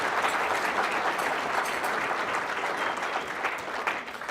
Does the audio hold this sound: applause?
yes